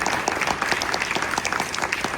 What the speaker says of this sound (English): Let's go ahead and give all a round of applause to all three candidates.